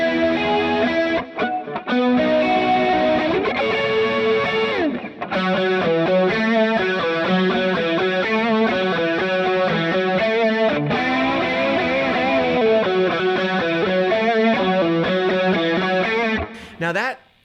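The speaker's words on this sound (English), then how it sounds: "Then I turned on a boost and a little tube screamer." Telecaster electric guitar played through chorus, a boost and a Tube Screamer overdrive, giving a thick, sustained distorted tone with shimmering modulation as chords and melodic lines ring out loud and continuous, pausing briefly near the start and ending abruptly.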